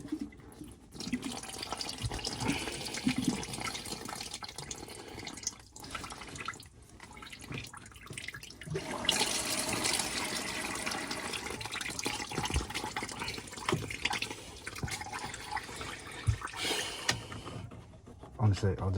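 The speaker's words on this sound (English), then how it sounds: "let's run some water through it" Water runs steadily through a plumbing filter for a long stretch, a broad continuous rush with brief drops and splashes, and people talk over it now and then.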